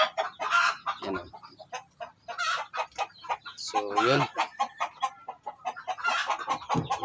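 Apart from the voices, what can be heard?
brooding hen clucking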